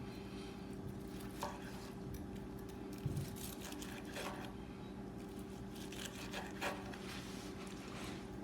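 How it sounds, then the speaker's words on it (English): A knife slices grilled ribeye steak into thin strips on a cutting board, giving a series of soft, irregular taps and cuts over a steady low background hum. "we're gonna get some nice thin strips cut. So let's cut these up."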